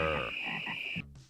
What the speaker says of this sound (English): The first ad featured a trio of frogs croaking the sounds Bud, Wise, and